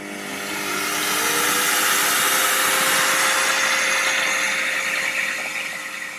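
A Eufy E28 robot vacuum runs at strong suction indoors in an apartment with rugs, a loud steady motor whir that swells in and holds evenly, with no talk.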